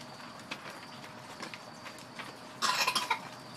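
A young girl coughs a few times, faint and close, a short cluster of harsh bursts near the end following quieter scattered sounds in a calm room.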